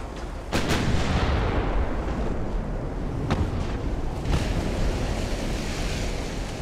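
Warship main guns boom in Ultimate Admiral: Dreadnoughts, a few sharp blasts spaced seconds apart over a constant roar of sea and wind.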